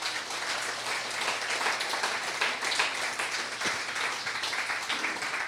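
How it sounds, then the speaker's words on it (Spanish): Church congregation clapping together in a continuous wash of applause, moderately loud and steady, heard at some distance with no talking on top. "¿Qué te parece si le das un aplauso al Señor?"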